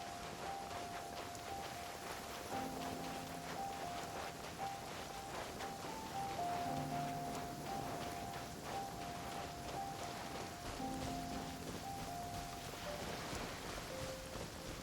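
Steady rainfall in the video game Genshin Impact, a continuous even hiss of falling rain with faint tonal game sounds drifting over it, quiet and unbroken throughout.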